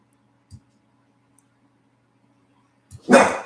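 A dog gives a single sharp bark nearby after a few faint thumps in an otherwise quiet room, loud and abrupt.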